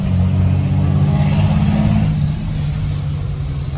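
An old Ford Cargo truck engine roars loudly and steadily with a deep, continuous rumble while it drives carrying a load in a town centre, no talk over it.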